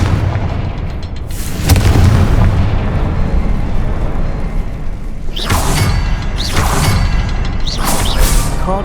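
Fiery blasts from a Confringo spell in the Hogwarts Legacy video game: a loud booming burst near the start, then a cluster of three sharp explosive cracks with whooshing tails over a rumbling background.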